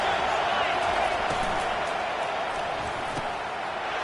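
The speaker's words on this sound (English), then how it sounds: "Listen to this crowd just shaking the girders of this place trying to help their defense." A college football stadium crowd at Texas versus Notre Dame roars in a dense, steady wall of cheering and scattered clapping, loud and sustained without pause.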